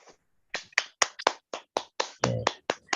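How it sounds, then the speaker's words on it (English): A small conference audience applauds a speaker with sparse, separate hand claps, about a dozen sharp claps spaced out over a few seconds with silence between them. "please give a round of applause to our amazing speaker, Professor Nurhayati Ahmad."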